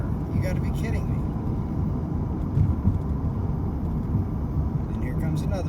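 Inside a car travelling about 30 miles an hour along a road, a continuous low rumble of engine and tyres holds steady throughout, with faint higher-pitched traces at the start and end.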